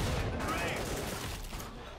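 Grenade explosions in the shooter game Killing Floor 2 go off amid dense, continuous gunfire, forming a loud, unbroken wall of blasts and shots for the whole stretch.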